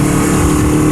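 Motorcycle riding on a slippery asphalt road, its engine a steady, loud, continuous drone with constant wind and road rush, no voices over it.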